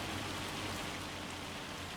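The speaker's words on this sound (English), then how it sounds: "It is hailing like crazy right now." Hail pelting down on a farm, a dense, even hiss of countless impacts with no gaps, loud and close, with no voices.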